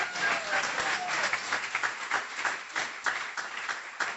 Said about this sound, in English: Let's get a round of applause for these instructors, please.